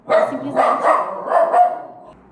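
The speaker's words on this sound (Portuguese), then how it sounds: "Eu tenho que ficar interrompendo porque a amarelinha fica toda hora latindo." A dog barks nearby indoors, several loud yapping barks in quick succession over about two seconds, with no other sound around them.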